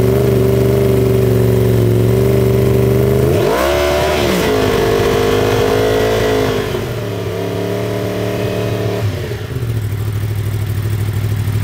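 A racing motorcycle from an endurance team at the 24H Catalunya is revved during a technical noise check, a loud, close engine note that rises sharply, holds high, then drops back to a steady idle.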